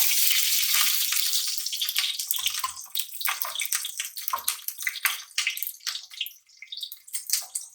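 Cumin seeds and chilies frying in hot soybean oil in a home kitchen, a loud, steady hiss at first that breaks into crackling, popping sizzles as the spices spatter.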